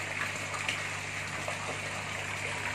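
Water gushing steadily from the outlet of a 38 watt water pump, a quiet continuous splashing flow with a faint low hum underneath, no voices.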